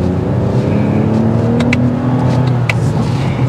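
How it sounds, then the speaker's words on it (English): Deep, steady exhaust drone from a 2024 Toyota Camry TRD V6 with a cat-back exhaust, holding a loud continuous rev with a rising and falling tone, close up and without speech. "And the cat-back exhaust."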